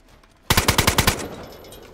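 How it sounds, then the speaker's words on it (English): Automatic gunfire in the video game DayZ, a rapid burst of about seven loud shots in quick rhythm, then a fading echo. "I saw those fucking shots hit the tree right next to me."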